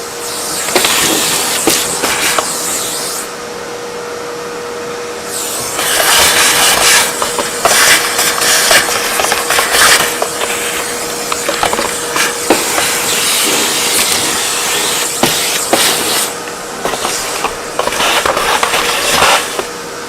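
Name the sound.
vacuum cleaning a Delonghi Magnifica S coffee machine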